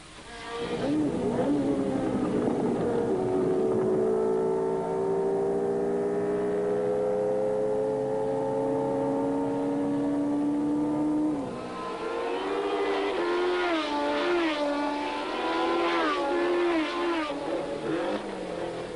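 A racing car crawls slowly back to the pits at the French Grand Prix scene, its engine note rising and falling in long steady tones, loud and close, then shifting to a rougher wavering drone.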